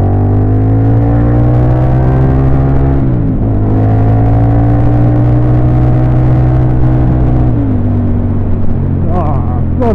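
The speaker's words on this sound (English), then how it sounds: "I love the sound of this bike" A motorcycle engine droning loud and near while overtaking, its steady pitch shifting as revs rise and drop with gear changes, with wind rush over the top.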